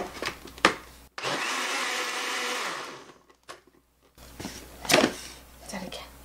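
A blender whirs loudly for about two seconds, then stops, mixing a pineapple mustard salad sauce; brief clattering and shuffling sounds come before and after.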